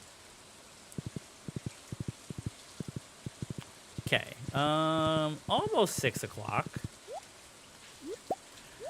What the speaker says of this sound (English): I also am just vibing with the rain